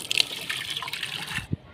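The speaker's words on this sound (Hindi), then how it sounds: "एक बाल्टी और भी भर लेता हूँ" Water pouring into a bucket, filled again to the brim in hot summer weather: a steady gushing splash for over a second, stopping abruptly, followed by a faint knock.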